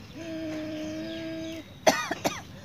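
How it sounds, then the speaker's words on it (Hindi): A person coughs several times while practising ujjayi breathing, a yoga pranayama exercise. First comes a long steady tone, then a sharp burst of harsh coughs and one or two shorter follow-up coughs, close and clear. "इस तरह से खांसी आने लगती है"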